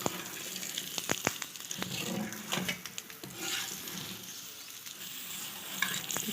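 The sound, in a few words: mooli paratha frying in ghee on a pan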